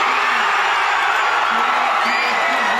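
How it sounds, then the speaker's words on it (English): Dense, steady roar of football fans cheering Geelong's AFL Grand Final win, with whoops and yells rising out of the loud crowd throughout. "And the cheering didn't stop there."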